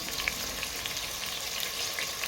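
Ginger paste with mint and coriander leaves sautéing in a pan for coconut rice, a soft steady sizzle with small crackles, fairly quiet and alone.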